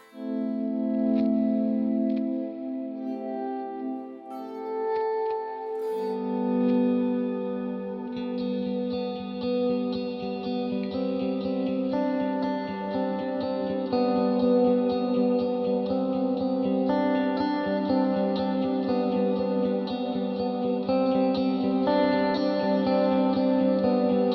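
Electric guitar through a Fractal FM9 preset with some dry signal blended in, strummed and picked chords heavy with distortion, chorus and echo, sustained continuously for over twenty seconds without speech.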